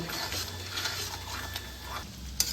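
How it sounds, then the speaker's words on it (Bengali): Beaten sour yogurt is stirred into a spice masala in a pan on a low flame, a soft scraping and gentle sizzle under a steady low hum, with a sharp clink near the end. "1 মিনিট মতো টক দইটা এর মধ্যে আমি কুক করে নেব।"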